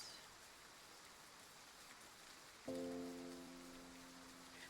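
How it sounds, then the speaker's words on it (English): Rain falling in a desert scene in the video game Love and Deepspace, a soft, even hiss of drops on a surface throughout, with a sustained tonal chime entering partway through. "A few days later, it starts to rain in the desert."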